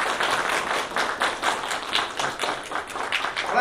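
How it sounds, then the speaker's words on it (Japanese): Steady applause from a crowd at an awards ceremony, a dense patter of many hands clapping continuously with no voices standing out. "盛大な拍手をお送りください"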